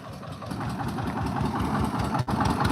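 An old tractor's engine idles with a steady low, throbbing chug, close and continuous, with no voices over it.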